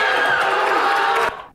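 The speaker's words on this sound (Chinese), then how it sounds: "同样兴奋欢呼" Starbucks workers cheer and whoop after a union vote, a bright burst of excited voices that cuts off abruptly after about a second.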